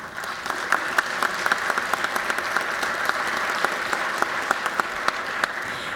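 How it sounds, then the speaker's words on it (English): Applause in a state legislative chamber rises from a seated crowd, a steady patter of many hands with distinct sharp claps standing out near the listener, sustained evenly for several seconds. "we give them a round of applause"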